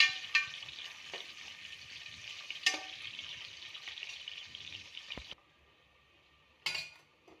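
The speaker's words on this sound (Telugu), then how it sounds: "ఇక ఆనియన్ బాగా కొంచెం వేయించుకోవాలి." Onion and green chilli frying in a pan for a home lunch dish, a steady broadband sizzle with a few sharp clinks of a stirring spoon against the pan, then the sizzle drops away near the end before a short final stir.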